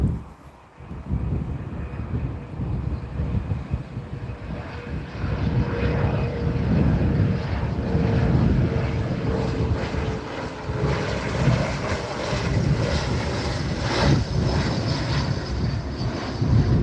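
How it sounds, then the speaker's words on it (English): A Gulfstream jet on final approach to land at Newcastle Airport in a crosswind, its engines a steady, broad roar that swells and holds throughout, heard from the ground amid some wind buffeting. "here's the Gulfstream just coming in now. This is it just on final."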